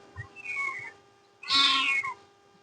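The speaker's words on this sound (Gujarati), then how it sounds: "આમાં તમે જોઈ શકો છો મિત્રો કે નાની નાની બિલાડીના બચ્ચા છે" Kittens in a zoo enclosure give two distinct high meows, the second louder and longer, with quiet background between them and no talking.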